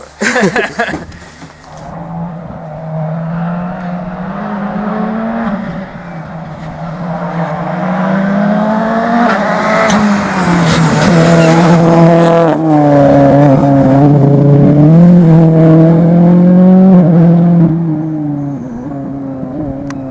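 Race car on Pirelli tyres at a 2015 test session in Saint-Germain-la-Campagne, engine note rising and falling loudly through gear changes as it passes close and accelerates away, with no talk.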